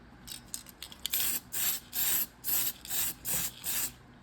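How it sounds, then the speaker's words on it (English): A spray can of liquid mask for painting RC car bodies hisses in a quick run of short bursts, then six longer, evenly spaced sprays, close and loud. "One more spray here."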